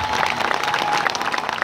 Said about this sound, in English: give another round of applause for this experience